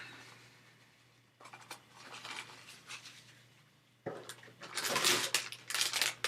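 Liquid poured into a small coffee filter cup, a quiet trickle starting partway through, then a louder, closer splashing pour near the end.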